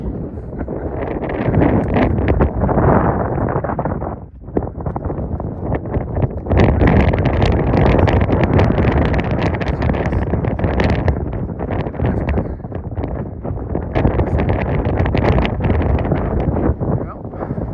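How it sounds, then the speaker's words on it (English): Strong gusts of wind buffet the microphone on an open Appalachian mountain summit, a loud roaring rush that surges and briefly dips, with a voice faintly under it at times. "It's windy, I bet you can't hear me."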